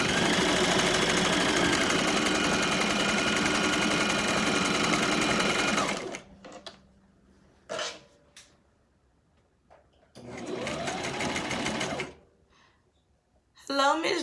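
A sewing machine runs steadily and loudly for about six seconds, stops, then runs again in a second two-second burst, with light handling clicks and thumps in the pauses.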